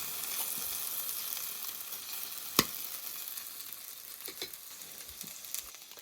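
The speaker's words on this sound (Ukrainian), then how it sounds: "Все в нас тут дуже гарно смажиться" Steady, bright sizzling of liver and vegetable fritters frying in a hot pan, with an occasional sharp pop or crackle, close and continuous.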